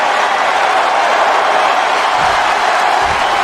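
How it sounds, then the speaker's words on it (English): An arena crowd in the wrestling game WWE 2K25 roars with a steady, loud, unbroken wash of cheering that holds at one level throughout, with no distinct voices standing out. "the crowd is hyped"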